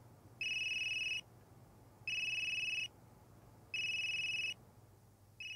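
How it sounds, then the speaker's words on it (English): A phone rings in the video game Unheard: three long electronic ringtone bursts, each under a second, separated by pauses, clear and steady over a quiet background. "That geezer's phone is ringing."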